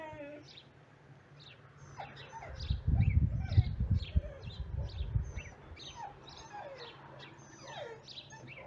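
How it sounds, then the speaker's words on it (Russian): Repeated chirpy birdsong phrases from a village rooftop ring out clearly throughout, with a brief low rumble of handling or movement in the middle. "Слышно, как птички поют."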